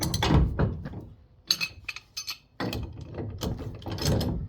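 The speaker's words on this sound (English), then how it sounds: "I've got a big ratchet and an adjustable wrench" A big ratchet loosening a trailer hitch ball, clicking in quick bursts of ratcheting strokes with short pauses between, close and loud with no talking.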